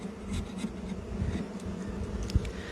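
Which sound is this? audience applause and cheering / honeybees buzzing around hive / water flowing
honeybees buzzing around hive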